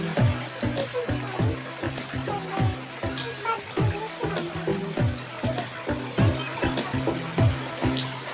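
Water flowing beneath a bamboo structure, a steady trickling and splashing stream with repeated gurgles and drips, fairly close, running on with no talk over it.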